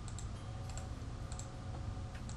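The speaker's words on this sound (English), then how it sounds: "press S on your keyboard to cut it" Computer keyboard keys being tapped during video editing software work, a few light sharp clicks spread over a soft steady background hiss, near and faint.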